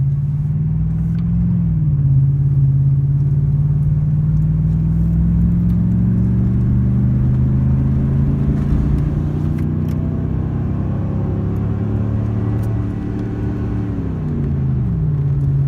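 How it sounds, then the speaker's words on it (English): A 2003 Chevrolet Silverado pickup with an aftermarket muffler accelerates steadily on the highway, heard from inside the cab, a deep droning exhaust note rising in pitch, easing off briefly then climbing again. "get a little sound clip of it accelerating here"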